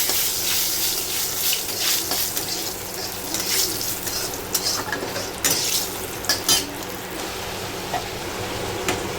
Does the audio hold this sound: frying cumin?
yes